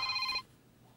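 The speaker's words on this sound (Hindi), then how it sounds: "फोन बज रहा है" A telephone rings in a quiet room, a single bright electronic trill lasting under half a second before cutting off to near silence.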